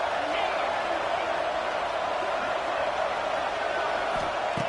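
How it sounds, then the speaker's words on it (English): Stadium crowd in the Madden football game, a constant loud roaring wash of voices that never lets up, with a commentator talking over it. "listen to this crowd noise. This stadium is vibrating."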